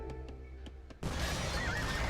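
Horses neigh and whinny in a real-time strategy game battle, a few brief calls at first, then a dense, loud wash of fighting noise with a whinny rising through it.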